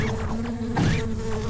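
Bees buzz in the Secrets of Grindea video game: a steady, close insect drone with shifting pitch sweeps, alone and fairly loud for a moment.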